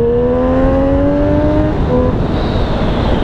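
Triumph Street Triple 765 S motorcycle engine revving high on a wet road, a loud steady whine with rising harmonics that briefly drops and picks up again, accompanied by constant wind rush.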